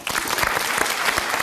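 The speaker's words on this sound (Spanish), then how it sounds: "Voy a aprovechar de pedir un aplauso primero para ella" A television studio audience on a talk show breaks into brief, lively applause, a dense and loud wash of clapping that starts abruptly and holds steady.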